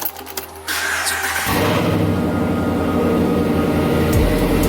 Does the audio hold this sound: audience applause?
no